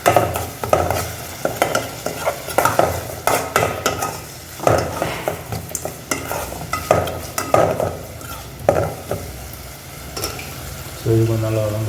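Chilli paste for Ambur mutton biryani fries in a pan, sizzling steadily while a utensil scrapes and knocks in quick, repeated strokes, loud and close, ending with a louder burst of sizzle.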